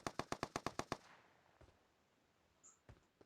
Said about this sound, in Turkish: Şuna kim sıkıyor lan?